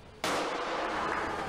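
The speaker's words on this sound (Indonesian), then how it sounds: "dimeriahkan dengan letusan meriam sapu jagat oleh tim khusus" A Sapu Jagad ceremonial cannon fires once, a sudden loud blast after a brief quiet moment, followed by a sustained roaring rumble and echo that carries to the end, at a military artillery corps anniversary celebration.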